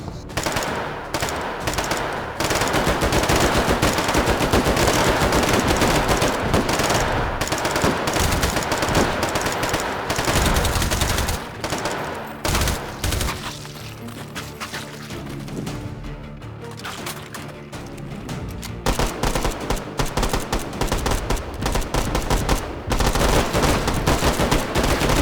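Sustained automatic gunfire from a specialized 4.92 mm gun in the VR game H3VR, long dense bursts of rapid shots with a brief quieter lull in the middle, loud and continuous.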